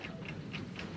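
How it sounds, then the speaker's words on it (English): Steady, faint ticking from a bomb, a few evenly spaced ticks like a clock mechanism over a soft background hiss. "Can you hear it ticking?"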